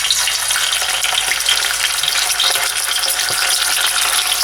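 Fish half-cooking in hot oil in a pan, a steady, close, bright sizzle and crackle running without pause and without talk.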